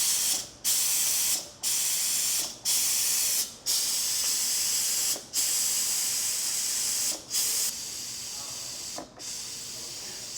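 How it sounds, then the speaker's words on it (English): Sharp bursts of steam hiss from the release button of a Breville Fast Slow Cooker, loud and close, coming in about six pressed spurts with short gaps before a steadier, quieter stream settles in. "I'm going to use the steam release button and just press it a couple times to get all the steam out faster."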